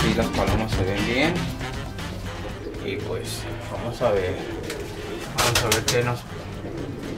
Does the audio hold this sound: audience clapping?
no